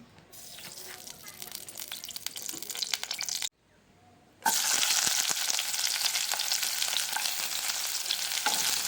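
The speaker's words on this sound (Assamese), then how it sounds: "এতিয়া মই কেৰাহীত তেল দি দিম আৰু পিঁয়াজখিনি অকণমান ভাজি ল'ম" Onions hiss and crackle in hot oil, stopping briefly, then a louder, steady frying sizzle resumes and continues to the end.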